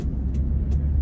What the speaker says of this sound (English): I am just driving home.